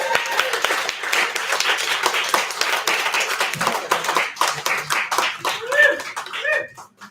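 Applause from an audience for open mic poets at a poetry reading, dense clapping that fades toward the end, with some voices under it.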